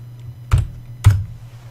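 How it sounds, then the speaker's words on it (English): Two separate keypresses on a computer keyboard about half a second apart, each a short, close clack over a low steady hum. "Now we're going to want to head over to your browser, type in localhost"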